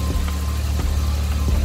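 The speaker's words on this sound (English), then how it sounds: "So yeah, engine's running." A 1977 Toyota Celica RA28 engine idles steadily up close, a low, even rumble with faint periodic pulses and no voices over it.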